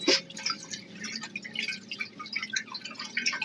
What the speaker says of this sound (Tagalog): Pagkatapos po ay huhugasan nyo po yung langka.